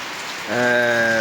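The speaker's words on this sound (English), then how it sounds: "It has been raining like this" Steady rain falls on a vegetable garden in South Africa in late summer, a continuous broadband hiss with a low tonal hum rising partway through, no voices.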